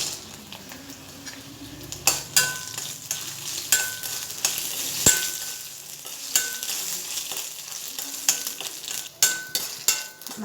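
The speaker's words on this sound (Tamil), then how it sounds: "இதில் இன்னொரு எண்ணெய் ஊற்றி சுண்டை வத்தலை வறுத்து" Dried turkey berries frying in hot oil in a pan, with a steady close sizzle punctuated by sharp clinks and scrapes of a spoon stirring against the metal, no voices.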